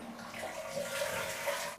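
Faint rush of water from a toilet being flushed in a long-abandoned house, a brief, steady gurgling wash heard from close by.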